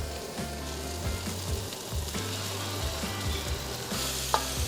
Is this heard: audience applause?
no